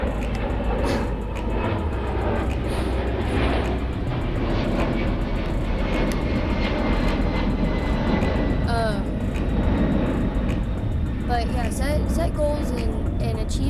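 An airplane passes overhead outdoors during an at-home abs and legs workout, a steady broad engine roar filling the background while someone talks over it.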